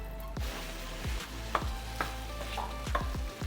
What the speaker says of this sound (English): while the fat loss stir fry is starting to cook